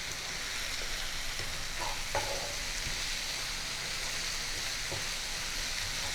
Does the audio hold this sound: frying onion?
yes